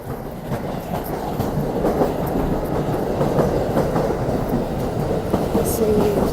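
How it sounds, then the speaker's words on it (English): A train rolls past close by, a steady loud rumble with rhythmic clickety-clack of wheels on rail joints throughout, heard outdoors on a commute to work. "Oh, there's a train."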